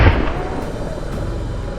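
A single gunshot fired at close range during a wild boar hunt near a cornfield, a sharp loud report that decays into a rumbling echo.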